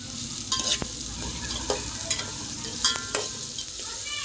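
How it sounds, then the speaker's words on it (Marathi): Onion sautéing and being stirred in a pan for Maharashtrian dal khichdi, with a steady sizzle of frying and a few distinct spoon scrapes and taps against the pan, close and alone. "आता आपण यात ॲड करू कांदा. कांदा छान परतून घेऊ."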